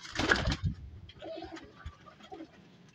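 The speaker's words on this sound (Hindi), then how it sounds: "बहुत अच्छी कबूतरी है।" Domestic high-flying pigeons in a loft coo softly, with a louder flutter or call at the start followed by faint, low, repeated coos.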